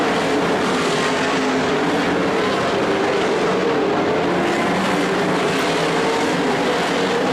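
Sprint cars roar around the track in a 360 A-feature race, a dense, loud, continuous wall of engine noise with no breaks.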